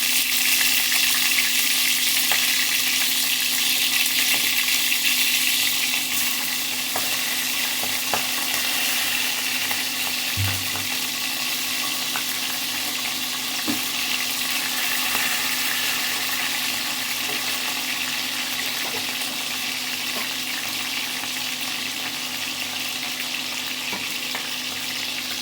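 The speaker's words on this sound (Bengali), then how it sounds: "তেলটা গরম হয়ে গেছে, এখন আমি চিংড়ি মাছগুলো ছেড়ে দেব।" Salted, turmeric-coated prawns sizzle steadily in hot oil in a pan, a dense, continuous frying hiss that stays loud and even throughout with no voices.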